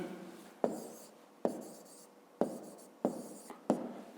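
Pen writing out a fifth-grade math solution on paper, heard as five short scratchy strokes, each starting sharply and trailing off, close and fairly quiet with no talking.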